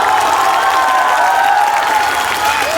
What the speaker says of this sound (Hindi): अब जेकरा जेकरा ई बुझाई ताली बजा सकेला।